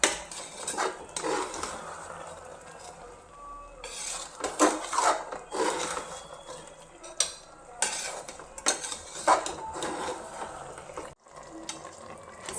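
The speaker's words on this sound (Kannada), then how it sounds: "ಎಲ್ಲನೂ ಹಾಕ್ಕೊಂಡು ಚೆನ್ನಾಗಿ ಮಿಕ್ಸ್ ಮಾಡ್ಕೊಳ್ಳೋಣ." Mushrooms and masala are stirred in a pan with repeated close metal scrapes and clinks of a spoon against the pan, and a soft sizzle runs underneath. No voices.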